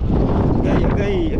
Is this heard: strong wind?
yes